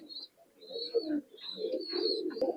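A Pakistani pigeon cooing at close range, a few soft low rolling coos with faint chirps in a quiet setting.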